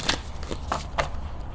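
Tarot cards are shuffled close up in a few quick riffling bursts, a brief papery flutter.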